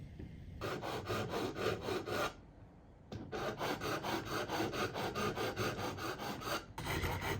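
Close, rhythmic rasping of a diamond file smoothing the fret end on a handmade wooden acoustic guitar: a run of quick, even strokes, a brief pause, then another long steady run of strokes with no talking.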